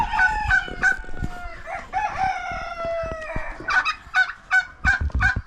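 Chickens on a snowy family farm cluck and squawk close by while a rooster crows repeatedly, the calls coming in short, uneven bursts.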